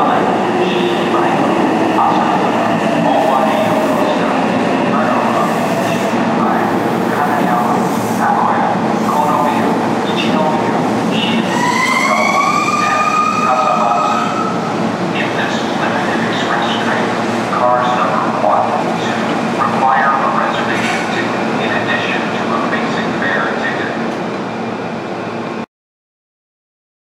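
A 2200 series limited express train stands at a station platform, with a steady rumble and hiss throughout, under an onboard announcement voice and sliding melodic chime tones midway.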